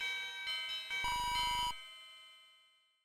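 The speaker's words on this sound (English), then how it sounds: "we'll see what his completion chime is" A bright electronic completion chime from the Genius Cat in Super Mario Maker rings out, one sustained tonal note over a brief buzzy burst, then decays cleanly into silence with no talk.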